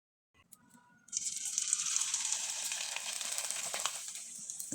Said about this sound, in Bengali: আর আমি কিছুটা পিঠা এখন ভেজে আপনাদের দেখিয়ে দেব।